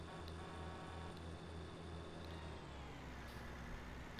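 A vehicle's engine drones steadily in a survival video game, with a low rumbling pulse and a hiss of road noise that stay constant and close throughout, with no talking.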